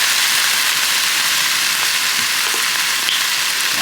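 Chicken with lemongrass stir-fries in a hot pan with a loud, dense, unbroken sizzle, close up and steady throughout, with faint scraping of stirring underneath.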